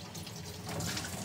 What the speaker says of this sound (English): We're gonna go ahead and turn on our water right there, and you'll see that the water goes right in here